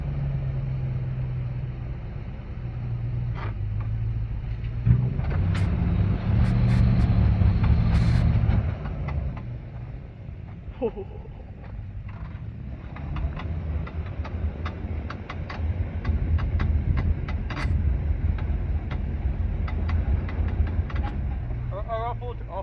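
A Lexus GX460 crawling a Florida off-road trail with A-TRAC traction control engaged: a steady low engine and drivetrain rumble with wheel-spin surges, swelling louder around the middle, with people talking over it.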